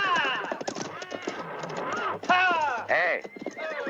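Horses at a Western-style corral or ranch give repeated whinnies and neighs while hooves clop steadily underneath, a busy, close layered mix of several animals with a loud whinny near the end.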